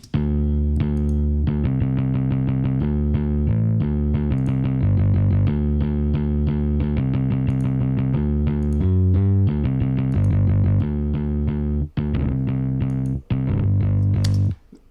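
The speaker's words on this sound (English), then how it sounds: "let's hear it with the distortion, to emphasize the harmonics here" A distorted bass guitar plays a steady, driving line of repeated notes, loud and continuous, with a gritty, harmonic-rich edge and a couple of brief pauses near the end.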